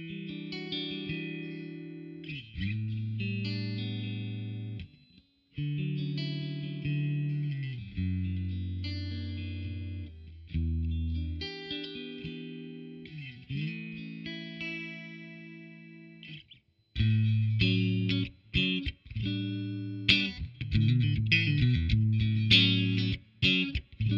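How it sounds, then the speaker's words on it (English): Clean electric guitar tones played through a Mesa Boogie amp, chords and single-note lines ringing with effects shimmer, in steady phrases with brief pauses, loud and alone without voices. "let's hear some clean tones once again."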